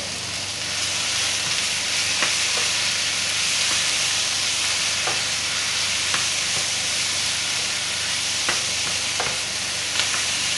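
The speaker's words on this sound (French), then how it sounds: "Lorsque la viande commence bien à rôtir" Meat and onions fry loudly in a pan for Chinese noodles, a dense, steady sizzle close up, broken now and then by brief clicks and scrapes of stirring, with no speech.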